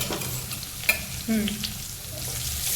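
Chopped garlic and curry leaves sizzle in hot oil for a tempering for dal palak, a steady close frying hiss with a sharp clink of utensils and stirring.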